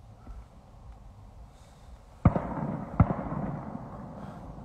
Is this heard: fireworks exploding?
yes